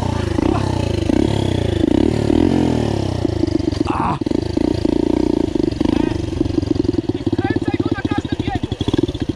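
A small pit bike engine sputters to life, then revs up and down in uneven bursts close by, with a voice talking briefly over the noise.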